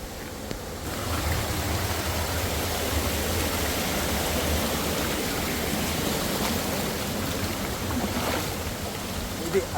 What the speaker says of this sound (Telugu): ఇది అసలైన వాటర్ ఫాల్స్.